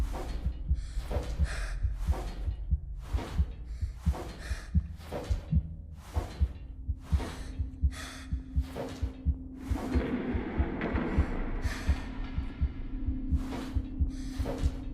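A pulsing heartbeat sound effect from the horror video game Giggleland, steady rhythmic thumps throughout with low breathing layered underneath and a brief swelling noise midway.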